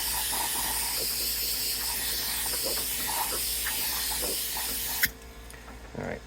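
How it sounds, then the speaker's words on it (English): An air compressor in a guitar workshop hisses steadily near the mic for about five seconds, then cuts off abruptly, leaving a quieter room with a faint knock after. "There's the annoying compressor kicking on."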